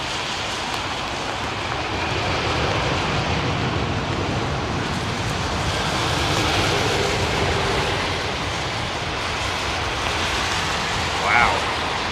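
An airliner lands on runway 27R at Heathrow with light thrust reverser use, a broad steady rumble and roar holding at distance for the whole stretch without a clear peak.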